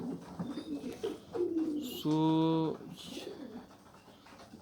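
A stray young carrier pigeon with clipped wings, found in a neighbourhood street, gives a loud drawn-out coo in the middle, with softer murmurs and a person speaking before and after.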